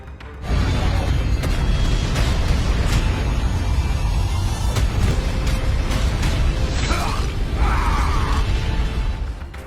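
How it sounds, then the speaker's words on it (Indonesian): A loud, sustained roaring blast with rumbling low end and crackling debris, filling the whole clip before tapering off at the end. "Dan boom, terjadi ledakan yang cukup besar."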